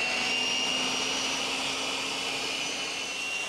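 A leaf blower runs steadily at close range, blowing debris off a riding mower's screen. It gives a loud, constant whooshing drone with a faint high whine and no voices.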